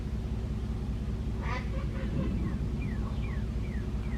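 Several ducks quack in a short burst of calls near the middle, over a steady background rumble outdoors.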